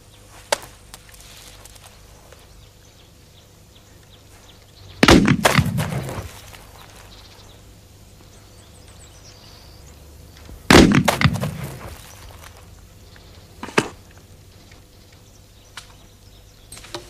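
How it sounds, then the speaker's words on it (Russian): Two loud gunshots ring out several seconds apart in a 1997 Russian film scene. Each is a sharp blast with a brief echoing tail, over a low, quiet background, followed by a faint click. "Стреляй!"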